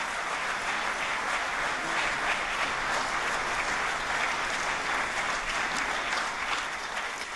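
An audience at a Civil Services Day award ceremony gives award recipients a sustained, even round of applause that fills the hall with many hands clapping together.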